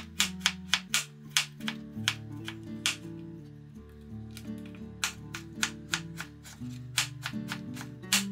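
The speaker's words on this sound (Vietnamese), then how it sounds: "khoai môn thì mình sẽ cắt sợi mỏng nhỏ như thế này" A knife slices taro into thin strips on a cutting board, producing a quick series of crisp, evenly spaced chopping taps under soft background music.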